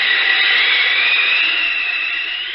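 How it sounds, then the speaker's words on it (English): Airplane sound effect from the Superman radio serial: a loud, steady jet-like roar and whine that holds evenly, then eases off slightly toward the end, with no voices. "It's a plane."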